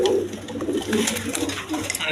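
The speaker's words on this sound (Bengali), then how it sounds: "দর্শকবিন্দু এখানে আরেকটা মাদি কবুতর ছাড়লাম" A large female pigeon coos, its soft, low, throaty calls mixed in with close talking and shuffling nearby.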